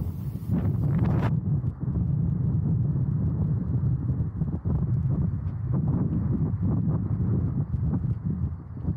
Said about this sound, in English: this is going really windy now.